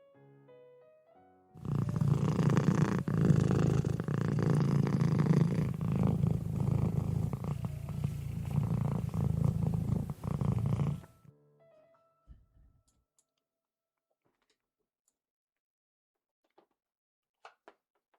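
A cat purrs steadily and close up for about ten seconds, a continuous rumbling drone, then falls quiet with only a few faint small noises afterward.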